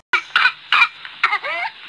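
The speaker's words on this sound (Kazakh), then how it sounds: "Бұл ұстамалы жөтел." A paroxysmal cough bursts out in a rapid close run of five or six harsh, forceful hacks, ending in a strained, whooping inward breath, with no speech.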